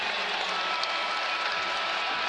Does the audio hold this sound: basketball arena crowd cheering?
yes